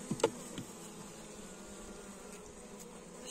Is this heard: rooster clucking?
no